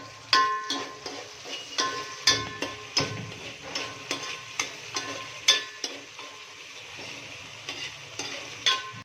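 Chopped onion fries in a pan for misal, a steady sizzle broken by regular clanks and scrapes as a spoon stirs it, close and clear with no voices.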